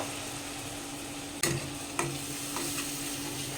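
Ground cumin, coriander and turmeric frying in a pan with a splash of water, a steady close sizzle broken by two sharp stirring scrapes of the spoon, with no talking.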